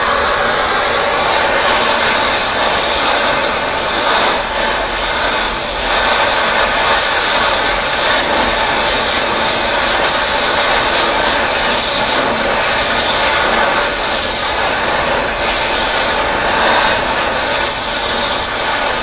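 A heat tool blasting steadily on a metal collar, a loud continuous roaring hiss that holds at a constant level without pause, with no voices.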